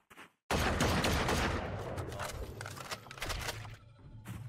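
Rapid gunshots in a Valorant match: after a brief pause, a loud sustained burst of dense firing that thins into scattered sharp shots.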